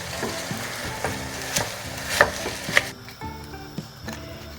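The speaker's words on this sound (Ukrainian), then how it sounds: "Зараз протушаться наші, протушаться наші овочі." Vegetables stewing and sizzling in a pan while Hungarian-style chicken thighs are cooked, a steady frying hiss broken by clinks and scrapes of stirring, close and with no talking.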